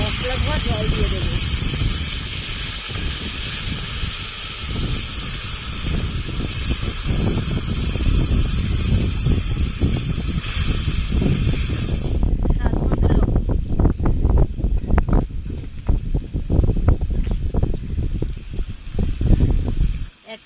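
Water poured into a hot pan of ginger, cumin, dried chili and spices while cooking a dal recipe: a loud, steady sizzle and hiss that calms partway into a bubbling crackle, with no talking over it.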